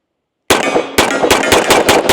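Rapid string of loud, sharp shots from a Springfield TRP 1911 pistol in .45 ACP, fired from a 10-round magazine, starting abruptly after silence and following in quick succession with a few slightly spaced reports.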